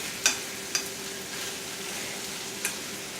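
Fresh ham, cut off the bone, frying in a very hot pan, with a continuous loud sizzle and three sharp spoon scrapes against the pan as it is stirred.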